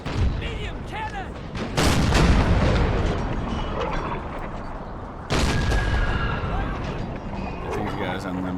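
Artillery cannons fire in a Napoleon Total War Civil War mod battle at Burnside Bridge, Antietam: two heavy booms several seconds apart over a bed of distant musketry and battle noise, while someone talks throughout.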